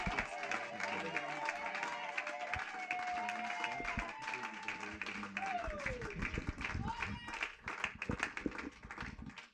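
A church congregation applauds and cheers as the pastor comes forward at an evening youth worship gathering, a dense, steady wash of clapping and crowd noise running throughout with music and voices mixed in.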